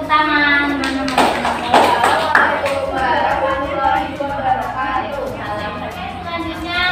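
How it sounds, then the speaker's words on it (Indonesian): A class claps steadily together for several seconds for a student group's presentation, with a teacher's voice speaking over the applause. "beri tepuk tangan teman-teman"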